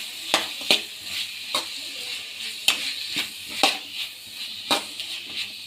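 Capsicum rice with fresh coriander and mint being stirred in a hot pan, a steady sizzle broken by repeated sharp scrapes and clinks of the spoon against the pan, close and moderately loud with no talking.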